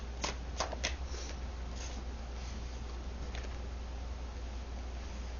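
Tarot cards are shuffled and one is drawn, giving a few crisp riffling snaps up close followed by soft papery handling in a quiet room.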